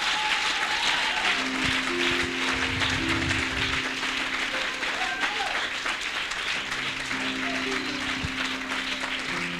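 A church congregation applauds and cheers in a sustained, loud wash of clapping, with a sung or held tone and voices mixed in throughout.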